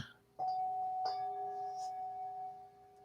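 A meditation bell rung twice in a quiet room during a gentle yoga session, each strike a soft, clear ding followed by a long, sustained ringing tone that slowly fades.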